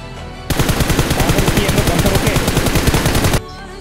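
Sustained automatic gunfire in a mobile battle royale shooter, a dense rapid burst of shots lasting about three seconds, loud and close, with no talk over it.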